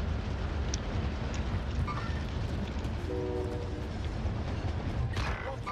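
Train riding in the video game Warzone: a steady, dense rumble of rolling rail noise with creaks and faint mechanical tones throughout, loud and continuous without a break.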